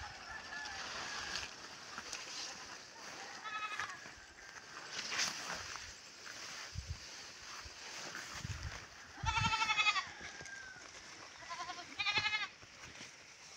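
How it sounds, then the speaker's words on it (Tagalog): Goats on a farm bleat in several short, wavering bursts, some close and loud, others fainter, over background ambience with occasional people talking. "Malapit lang dito ang kambing ko."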